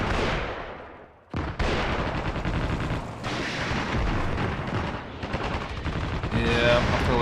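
Heavy gunfire in the war game Armored Brigade II, sustained dense rattling bursts and booming impacts over several seconds with a brief near-silent gap, loud and continuous.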